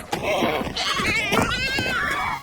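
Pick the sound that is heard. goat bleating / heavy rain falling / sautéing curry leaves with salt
goat bleating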